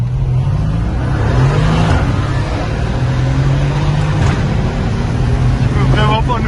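A Mercedes C63S Edition 1 V8 accelerating hard while racing an Audi RS3 ABT, with a loud engine drone rising in pitch through the gears and people talking over it inside the car.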